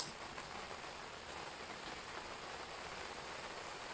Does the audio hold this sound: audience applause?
no